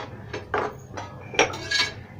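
A utensil stirs urad dal rice with grated coconut in a metal pan, giving a few scraping clinks at a loose, uneven rhythm, close and clear with no talk.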